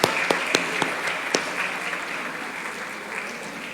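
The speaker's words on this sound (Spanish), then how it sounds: "Paz, un aplauso." Church congregation clapping in applause, a few sharp claps standing out at the start over a dense, steady wash of hands that carries on evenly throughout.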